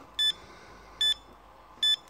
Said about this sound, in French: ça peut biper quand il n'y a pas assez de tension